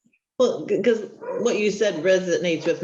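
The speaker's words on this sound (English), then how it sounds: "I'm sorry if you can hear my dogs barking" Dogs bark and yip inside a house, mixed closely with someone talking over them, the barks irregular and fairly near throughout.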